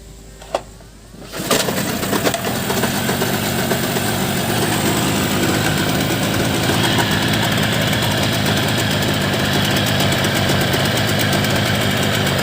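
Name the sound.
15 hp boat engine running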